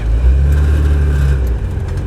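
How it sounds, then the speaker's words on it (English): Alpine car's engine running close by with a small exhaust rattle and resonance, a steady low droning rumble that eases slightly near the end. "you can hear that little exhaust rattle there"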